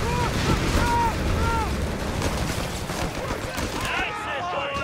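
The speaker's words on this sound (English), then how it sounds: "Taking heavy fire." Heavy gunfire from Company of Heroes 3, with dense rattling shots and booms under a continuous loud battle din, with voices mixed in.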